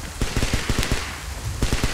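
Rapid bursts of gunfire in a video game, in quick volleys, several sharp shots clustered together, then a pause and another short burst.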